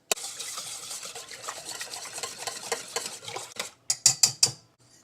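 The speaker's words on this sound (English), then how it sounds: "And I'm going to whisk this before I add the oil." Wet pancake ingredients being whisked in a bowl, a quick run of rapid scraping and clinking strokes that stops briefly, then a few louder separate taps of the whisk against the bowl rim at the end.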